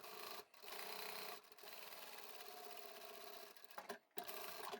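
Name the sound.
sewing machine back stitching a drawstring bag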